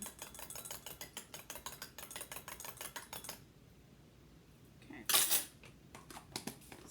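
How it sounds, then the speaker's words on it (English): A spoon stirring wool dye into water, clinking rapidly and rhythmically against the container for a few seconds, then a quiet pause, a louder knock and a few scattered taps, close but faint overall. "Stirring this all up so it gets dissolved"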